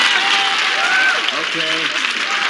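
Studio audience of a 1979 CBS daytime TV game show applauding, steady close crowd clapping throughout, with a short spoken word over the clapping.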